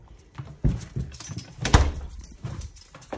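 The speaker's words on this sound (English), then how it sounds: "Here, I'll let my dog out here." A dog is let out through a door, with scuffling, clicking paws and a few knocks and thumps at close range; no talking.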